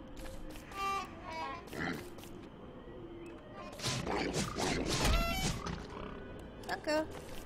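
A pig grunting and snorting in the game Don't Starve: Shipwrecked, several short rough grunts and squeals scattered over a busy mix of game effects, with someone talking throughout.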